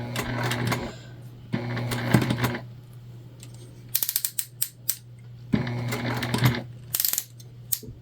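A sewing machine stitches a fabric heart in short loud bursts of rapid mechanical whirring, separated by pauses filled with clicks and rattles as the fabric is turned and back-stitched.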